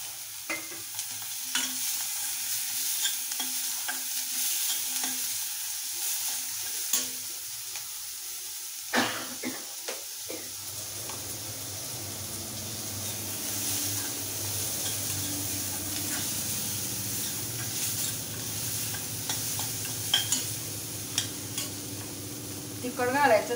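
Tomato added to a pan of grated ridge gourd vegetable with turmeric, hitting hot oil with a steady sizzle while a spoon scrapes and stirs intermittently, close and continuous.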